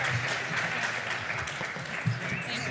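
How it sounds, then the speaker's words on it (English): A steady round of applause for city council candidates at a Spokane civic forum, a continuous wash of clapping from a seated audience at moderate level, without a break. "would you give our candidates one more round of applause?"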